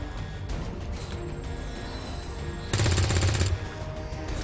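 Burst of gunfire in XCOM 2, a loud rattling volley lasting under a second over steady ambient game noise.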